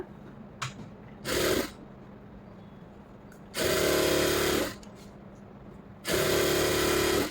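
A sewing machine stitches a blouse sleeve in three separate runs, a short burst followed by two longer steady whirring stretches of about a second each, close and fairly loud, with quiet pauses between them.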